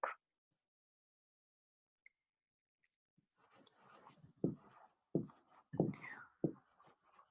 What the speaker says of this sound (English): I just write it down really quick.